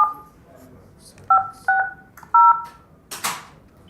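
Touch-tone keypad beeps on a cell phone: several short dual-tone presses spaced apart, close and clear, followed by a brief rustle.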